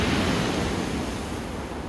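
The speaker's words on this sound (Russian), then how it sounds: "На море шторм." Stormy Black Sea surf at a Sochi beach in December, a dense, continuous roar of breaking waves with wind noise buffeting the microphone, loud and steady with no voices.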